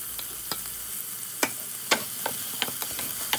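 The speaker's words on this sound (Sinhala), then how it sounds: "බටර් ටික රත් වෙලා දිය වුණාම කපාගත්ත කරපිංචා ලුණු අමු මිරිස් ටික දාගෙන ලුණු අමු මිරිස් ටිකක් බැදිලා සුවඳ එනකොට ඉඟුරු සුදු ලුණු ටික දාගන්නවා" Curry leaves, onion and green chilies fry in melted butter with a constant bright sizzle, broken by a few sharp clicks and scrapes from a stirring spoon.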